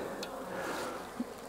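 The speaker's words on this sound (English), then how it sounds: "and you dump the bees in." Packaged honeybees are tipped from their box into a hive, giving a faint, steady buzzing hum with a brief rustle, quiet and close.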